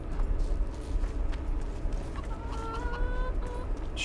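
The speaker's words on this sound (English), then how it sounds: "Chickens." Chickens in The Witcher 2: Assassin of Kings cluck in a few short tonal bursts in the second half, over a steady ambient game bed with hoof-like clopping.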